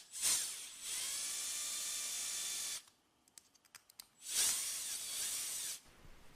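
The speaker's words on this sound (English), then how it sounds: "fasten it in place with 2 No. 8 1¼ inch wood screws" A power driver whirs as No. 8 1¼-inch wood screws go into a wooden plunger spacer: one long high whine, then a pause with small ticks and clicks, then a second, shorter whine.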